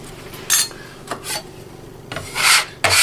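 A hard red carrot being peeled, four loud raspy scraping strokes of the peeler, brief and close, separated by short pauses.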